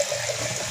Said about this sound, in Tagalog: I put this mineral water.